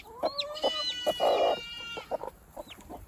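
Several short clucks from a young chick or hen in a farm setting, close and fairly loud, coming in quick bursts with brief pauses, with a higher peeping call near the end and no talking.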